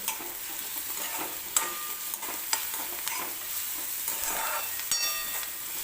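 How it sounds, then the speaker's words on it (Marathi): Green chili, cumin, garlic and onion fry in oil in a pan, giving a soft, steady sizzle broken by faint clicks of stirring, quiet and close with no voices. "हे सुद्धा आपल्याला व्यवस्थित तेलामध्ये कांद्यासोबत भाजून घ्यायचं आहे"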